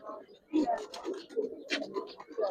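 A young Giribaz pigeon pair, the hen with black feathers, gives soft repeated coos close by, while people talk over and between the calls.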